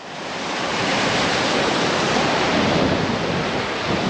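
Baltic Sea water washing against a flat shoreline, a steady broadband rush of surf that swells in the first half-second and then holds even and close, with no voices.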